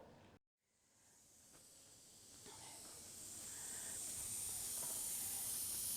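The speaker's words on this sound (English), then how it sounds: "The steam is escaping from the valve of the pressure cooker" Steam hissing steadily from a pressure cooker valve, rising from quiet to a loud, continuous high hiss after a brief silent gap near the start.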